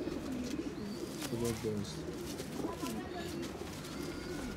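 Pigeons coo repeatedly in a rolling, throaty rhythm, heard close by from a loft of Teddy-breed birds in Lahore, Pakistan, while someone speaks briefly over the calls.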